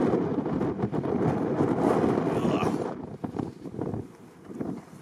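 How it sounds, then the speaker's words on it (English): Strong wind buffets the microphone beside a Tesla 70D on a road trip, a loud rumbling roar that surges and eases unevenly, with a voice speaking over it. "It is super windy."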